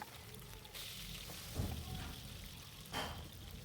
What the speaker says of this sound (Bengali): আমি কিছু আলু কেটে রেখেছিলাম ওগুলা একটু লবণ দিয়ে তো ওগুলা একটু সুন্দর করে ভেজে নিচ্ছিলাম